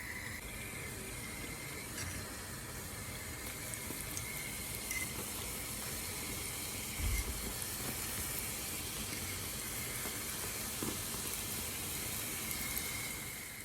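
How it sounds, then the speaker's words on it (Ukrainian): Doughnuts fry in hot oil with a steady, dense sizzle and crackle throughout, fairly quiet and even, with no talking. "Рум'янимо, смажиться дуже швидко"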